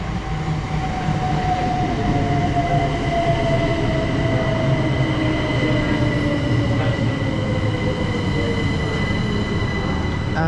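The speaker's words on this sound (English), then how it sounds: "in comes our train now, the 12:22 southeastern service from London Charing Cross to Ramsgate" Southeastern Class 375 electric train pulling into a Kent station on a Charing Cross to Ramsgate service, a loud, close, continuous rumble of wheels with a long descending whine and faint squeals as it slows; no voices.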